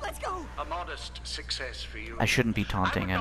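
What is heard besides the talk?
No everyday noise stands out behind the speech.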